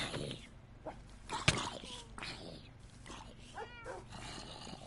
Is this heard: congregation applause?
no